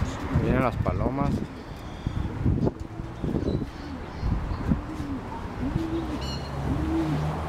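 Racing pigeons being let out at a loft during a derby competition, with soft cooing calls repeating through the clip and people talking nearby.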